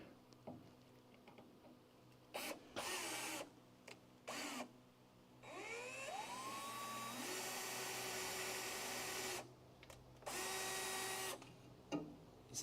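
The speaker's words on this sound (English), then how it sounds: "I'm drilling a small hole in the spot weld because that gives this a guide and it allows that to stay centered" A power drill bores a small guide hole into a spot weld on a Crew Cab Charger car body, several whining bursts rising in pitch and holding steady, separated by short pauses, with no talk over it.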